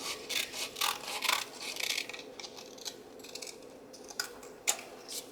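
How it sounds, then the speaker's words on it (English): Scissors snip and rub through printed paper trimmed off a CD envelope in a junk journal build, a series of close, quick crisp cuts and light rasping without talk. "you'll want to go ahead and trim it off so that your envelope can close"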